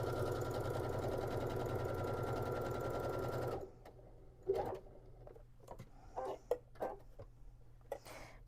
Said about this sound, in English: I am sewing at 1/4 of an inch